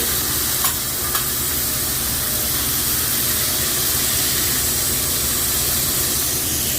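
Indonesian nasi goreng frying in a Japanese restaurant kitchen, a loud steady sizzle with hiss and a couple of faint clinks, no voices.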